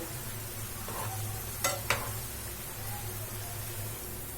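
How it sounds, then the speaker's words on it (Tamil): Homemade snack pieces deep fry in oil over a medium flame, giving a steady, quiet sizzle with two sharp clicks near the middle, probably from stirring. "இப்போ இது எல்லாமே நல்லா ஃப்ரை ஆகட்டும்."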